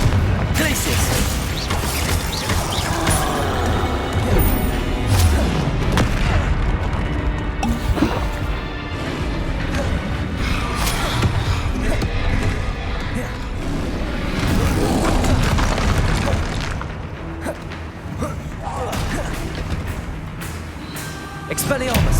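Dense, continuous barrage of magical blasts, booms and crashing impacts from spellcasting combat in Hogwarts Legacy, loud and relentless throughout with layered thuds and smashes.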